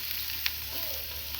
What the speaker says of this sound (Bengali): এবার দিয়ে দিব মশলাগুলো, ভালো করে নেড়ে চেড়ে নেব।